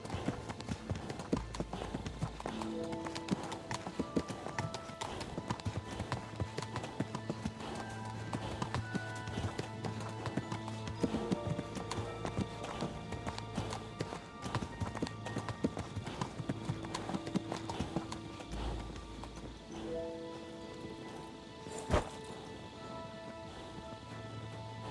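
Horse hooves clip-clop in the video game Kingdom Come Deliverance 2, a steady, continuous rhythm of close hoofbeats lasting about twenty-five seconds, with faint low sounds beneath.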